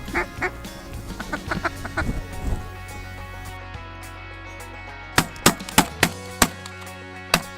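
Ducks quacking in a Saskatchewan field in early October, a burst of several rapid quacks at first, a quieter stretch, then sharp separate calls in quick succession, fairly close, with faint voices mixed in.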